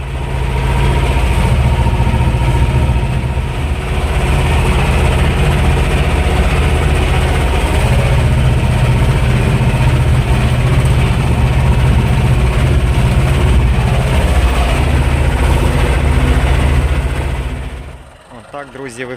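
A T-25 tractor discing a field sends up a loud, steady diesel drone with deep low rumble that holds nearly unchanged for most of the stretch, then drops off sharply near the end.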